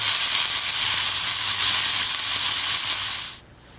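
Japanese mushrooms pressed under a weight on a hot grill give off a loud, steady hiss of sizzling close up, which cuts off abruptly near the end.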